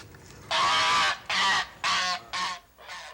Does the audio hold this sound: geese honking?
yes